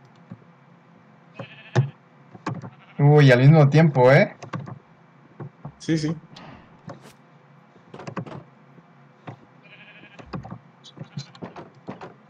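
Sheep bleating in a video game, several short bleats scattered across the stretch, one long wavering bleat standing out, with a person talking briefly in between.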